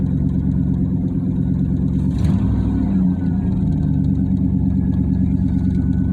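A 1988 Pontiac Trans Am GTA engine idles high with a steady, loud, even drone close by. The tone shifts slightly partway through.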